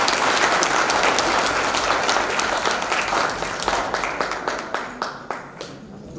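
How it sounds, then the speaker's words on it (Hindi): Women at a community gathering of village DigiPay volunteers clap for themselves, a full, dense round of applause that thins out toward the end into fewer, more separate claps. "अपने लिए ताली बजाओ"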